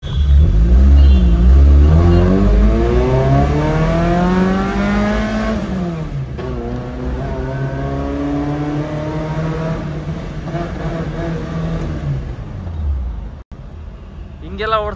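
A Mahindra Thar Roxx engine revving up and falling back in long sweeping pulls at a showroom launch, loud and close, with people talking over it.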